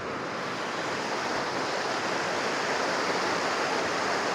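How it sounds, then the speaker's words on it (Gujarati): A hill-station waterfall near a small check dam roars as a continuous, broadband rush of falling water, loud and steady throughout with no voices. "આવો મસ્ત વોટરફોલ આવ્યો હોય છે."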